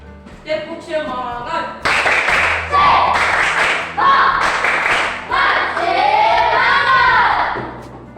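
A school class claps out a rhythmic spirit clap in unison, loud sharp bursts of hands following a set pattern, with voices chanting and talking over the beat.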